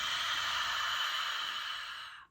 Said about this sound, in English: using this ocean style breathing where we're pressing against the back of the throat